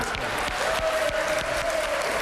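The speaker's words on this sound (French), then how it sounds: "Très applaudi Pascal Béraud-Le-Sueur, à juste titre." Steady applause from a large crowd at a pétanque semi-final, dense and continuous throughout, with a faint tone running under the clapping.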